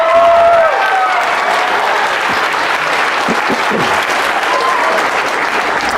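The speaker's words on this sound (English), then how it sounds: "Clap if you got spanked growing up." A stand-up comedy club audience claps in a full, sustained burst, with many hands blending into a steady roar; brief voices ring out at the start before the applause carries on alone.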